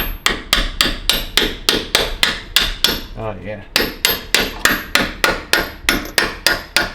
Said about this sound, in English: so I'm gonna try and tap it in with the hammer.